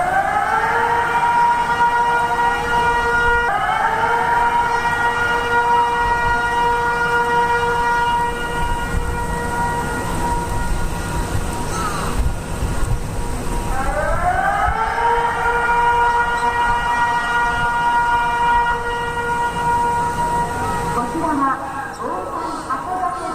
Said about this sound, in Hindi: तो ये हम आपको सायरन की आवाज सुना रहे थे और ये आवाज आ रही थी जापान से